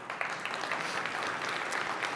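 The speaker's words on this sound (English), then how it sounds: "a round of applause for them," An audience at an opening-remarks gathering gives a round of applause, a soft, fairly distant patter of clapping that carries evenly through the short stretch without any voices.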